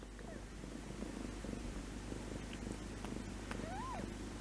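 A cat purrs steadily at close range, with a few faint rising meows over the continuous rumble.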